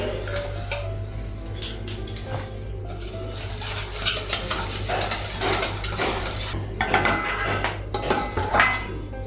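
A pot lid lifted while cooking, with metallic clinks and clatter of cookware and utensils over a faint steady sizzle, several sharper knocks spread through the stretch.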